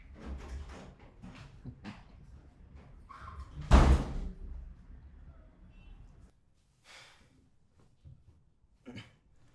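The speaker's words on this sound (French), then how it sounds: "Ferme bien la porte en sortant." A door shuts with one sharp slam midway through, heard among scattered footsteps, rustling and movement in a quiet room, with brief shuffling sounds after it.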